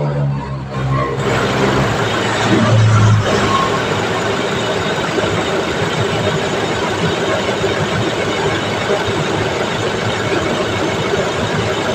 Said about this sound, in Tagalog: Ngayong umaandar na yung makina.